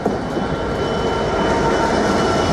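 An intermodal freight train bound from Peterborough North Yard to Felixstowe South Terminal passes through Ely station, a loud, steady rumble of rolling wagons that fills the whole stretch without letting up.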